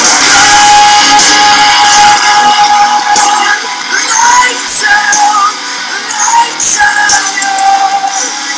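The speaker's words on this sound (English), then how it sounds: "you'll hear me shouting on the first chorus underneath the vocal" Distorted shouting sits underneath the lead vocal in a loud, dense song chorus. Rough, strained yells blur into the full mix of instruments and singing throughout.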